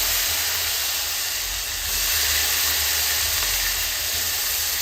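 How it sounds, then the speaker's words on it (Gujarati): Peeled potatoes drop into hot oil already seasoned with cumin, curry leaves and asafoetida, making a loud, continuous sizzling hiss that holds steady throughout. "અને તુરંત આપણે તેમાં બટેટા ઉમેરીશું."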